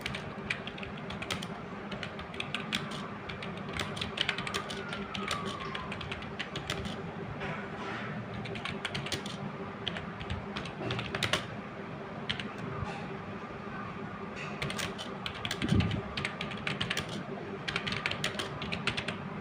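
Quick clicking keystrokes on a computer keyboard, close and steady across the stretch with irregular bursts and pauses.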